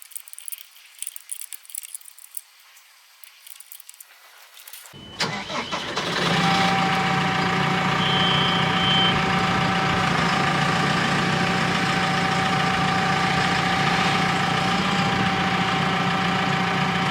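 A forklift engine starts after a few seconds of quiet handling noise, then runs loud and steady at close range, with a high tonal whine that may be a reversing beep. Nobody speaks.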